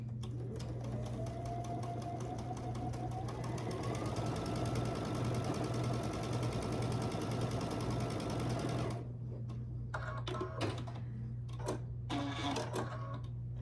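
Sewing machine stitching a quarter-inch quilt seam, a steady close whirring drone running continuously for about nine seconds, then stopping and giving way to a few light handling clicks and fabric rustles.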